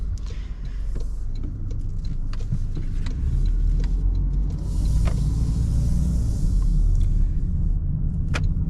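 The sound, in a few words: Toyota Corolla LE 2024 car driving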